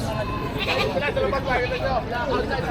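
A goat for sale at a Philippine livestock market, bleating a few times amid steady crowd chatter and nearby talk.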